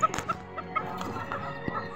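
Hen at a chicken coop clucking in short scattered bursts, fairly faint against quiet surroundings.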